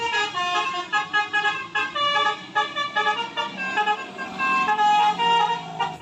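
Toy telolet bus horn playing a bright, musical multi-tone melody in quick bursts, rhythmic honks repeating across several seconds, fairly loud and close with no talking over it.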